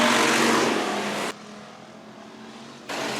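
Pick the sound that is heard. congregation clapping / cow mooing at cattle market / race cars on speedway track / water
race cars on speedway track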